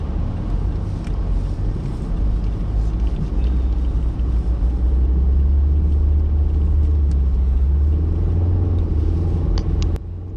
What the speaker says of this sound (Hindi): ठंड इतनी ज़्यादा है कि गाड़ी की आवाज़ भी देखिए, गाड़ी कैसे वाइब्रेट कर रही है।